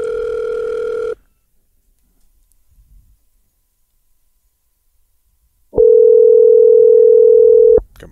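A telephone ringback tone heard while a call is placed, two long, loud, steady electronic buzzes separated by several seconds of near silence, with no talking over it.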